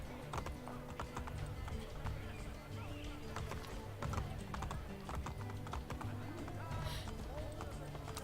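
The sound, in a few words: horse hooves galloping in the video game Assassin's Creed Brotherhood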